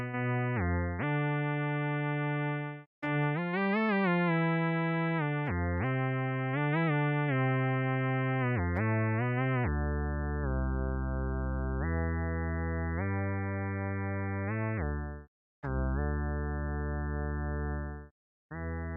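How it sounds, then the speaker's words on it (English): A Pure Data synth plays a square-wave oscillator bass tone dropped an octave, with chorus on it. It sounds as buzzy sustained notes that step through changing pitches with brief gaps and a few short pitch bends, alone with no talking. "I made it a square, which actually is also a cool bass tone."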